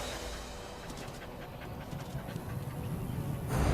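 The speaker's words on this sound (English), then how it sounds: "It's truly happy and pants." A dog in the video game Dragon Age: Origins pants steadily and rapidly in quick breathy bursts, close and fairly loud, with no talk over it.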